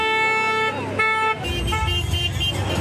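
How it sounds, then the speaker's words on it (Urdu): Cars in a large convoy returning into Lebanon sound their horns in celebration, overlapping honks and toots blaring steadily up close with engine noise beneath, no talk. "گاڑیوں نے ہارن بجا بجا کر خوشی کا اظہار کیا۔"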